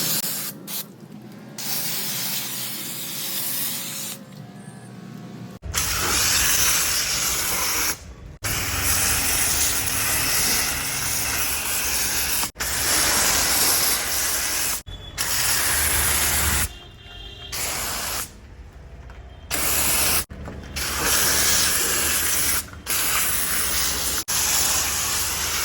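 A pressure washer sprays foam and water over a car during a touchless pre-wash, a loud, steady hiss that runs nearly nonstop with a few brief breaks.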